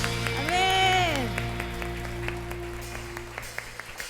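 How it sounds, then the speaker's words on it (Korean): A church congregation applauds during a Korean anniversary thanksgiving worship service, steady clapping filling the room over sustained organ-like tones, with a voice rising and falling briefly near the start before the applause thins into scattered claps. "하나님 앞에 감사와 영광의 박수 올려드리겠습니다."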